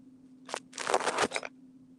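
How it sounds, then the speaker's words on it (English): A camera gets knocked over by a cat, giving a short clattering, crunchy tumble of plastic knocks and scrapes that lasts about a second against a steady low hum. "Cat, was that necessary, knocking over the camera?"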